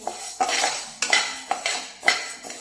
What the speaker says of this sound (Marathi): उडीद डाळ ही आपल्याला छान अशी भाजून घ्यायची आहे